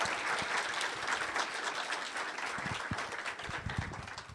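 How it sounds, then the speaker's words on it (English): A conference audience applauds the winners at the Rakuten Technology Conference 2012, a steady wash of clapping from a large hall, moderately quiet and without speech. "I'd like to ask all of you giving a big applause to all winners again"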